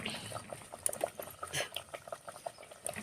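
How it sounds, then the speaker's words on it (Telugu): Chekkalu, rice-flour dough snacks, frying in oil in a clay pot, with faint soft bubbling and light crackles scattered irregularly at low volume. "నూనెలో చక్కగా కలుతాయి అనమాట ఇట్లా మట్టి పాత్రలో"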